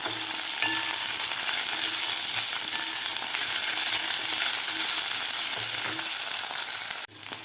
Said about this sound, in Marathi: थोडासा गोल्डन कलर होईपर्यंत आपल्याला हे फ्राय करायचे आहे तेलामध्ये